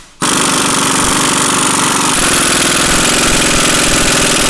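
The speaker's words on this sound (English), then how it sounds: "you'll be able to hear a tone change with the impact gun" An impact gun tightens the axle yoke nut on an AMC 20 axle during a Jeep CJ-7 restoration. It gives a loud, continuous rapid hammering rattle close up, and its tone shifts partway through as the nut draws tight.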